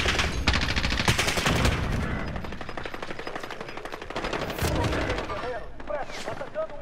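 Rapid bursts of Call of Duty: Warzone gunfire crackle steadily, with machine-gun rattles and single shots blending into a dense, loud barrage throughout.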